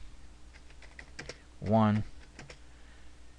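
Typing on a computer keyboard, a quick run of soft clicks and taps over a low steady background, with a brief spoken number cutting in partway through.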